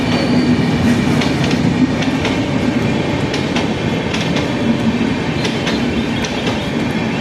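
Rapti Superfast Express from Gorakhpur to Thiruvananthapuram rolling past near Lucknow, a loud continuous rumble of wagons with rhythmic wheel clatter and occasional squeals, close and steady throughout with no voices.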